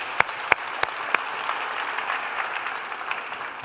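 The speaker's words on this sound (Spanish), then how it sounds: "que este aplauso se extienda también a Sergio Sacchettoni" An audience applauds at a talk, steady clapping with a few sharp louder claps near the start, sustained and moderately loud before gradually easing off.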